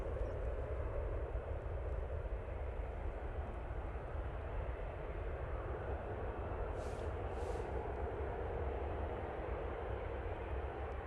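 A TUI airliner rolls down the runway on its takeoff run at Manchester Airport, its engines a steady, broad roar that holds level and unbroken throughout, heard from a distance with no voices over it.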